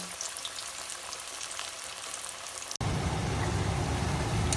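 Chinese pakoras, small vegetable batter balls, frying in hot oil, a steady crackling sizzle that grows louder and denser partway through after a sharp click, with no voices.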